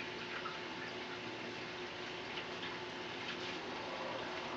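Steady tap water runs continuously while a clove of garlic is rinsed for beef stew, a soft, even hiss with no talking.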